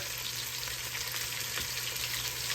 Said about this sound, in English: I just want to get a good sear